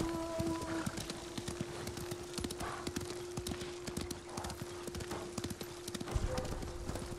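Rapid horse hooves clip-clop steadily over a faint background hum in the video game Ghost of Tsushima, with a brief whinny-like note near the start.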